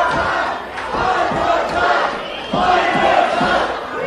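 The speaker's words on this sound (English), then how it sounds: "The crowd's chanting for one more time." Wrestling arena crowd chanting in unison during a match, a loud dense roar with rhythmic swells of voices repeating a short chant, steady throughout with no clear individual speech.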